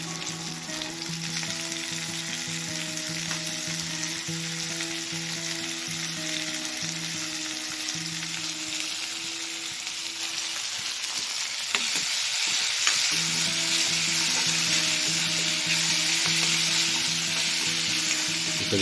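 Onion and tomato fry in mustard oil with roasted garlic and chilli, a steady close sizzle and crackle running throughout with occasional stirring scrapes and a brief dip midway.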